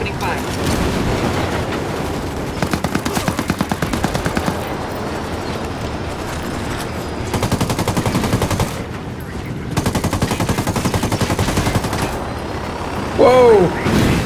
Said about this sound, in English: Sniper, opening fire.